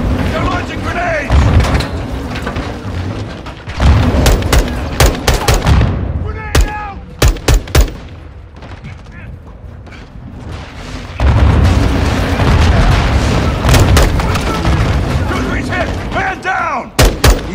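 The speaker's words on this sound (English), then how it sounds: "Incoming! Take cover! They're launching grenades!" Grenade launches and heavy gunfire ring out in Call of Duty Modern Warfare II, loud booming blasts and rapid shots in several bursts, split by a quieter lull carrying a few single cracks and shouted voices before the barrage resumes.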